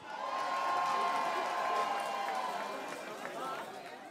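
A song contest audience in a hall cheers, whoops and applauds, a broad wash of crowd noise that swells and then gradually eases, with voices mixed in.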